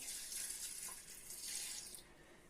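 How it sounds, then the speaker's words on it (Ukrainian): Water is poured over sprouting beans in a kitchen, making a steady, close splashing pour that runs for about two seconds and then stops. "Заливаю водою."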